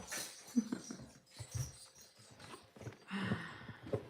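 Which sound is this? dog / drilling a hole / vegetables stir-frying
dog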